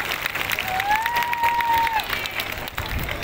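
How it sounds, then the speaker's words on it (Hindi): A crowd at a campaign rally applauds and cheers to welcome the chief minister, a continuous wash of clapping with a thin whistle-like tone cutting through, and voices mixed in. "थोड़ा इसमें जोरदार ताली बजा के आदरणीय मुख्यमंत्री जी के स्वागत करो"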